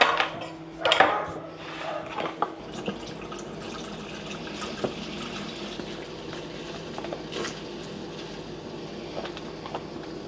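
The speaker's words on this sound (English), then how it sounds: "we're gonna start washing up some stuff in the kitchen." Dishes being washed at a sink: water running and dripping, with occasional clinks of plates and cutlery, close by and fairly quiet.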